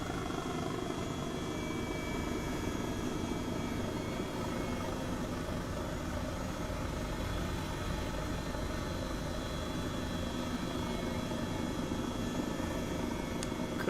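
A steady, continuous aircraft engine drone in Microsoft Flight Simulator, with a broad even roar and faint tonal hum that hold unchanged throughout and no talk.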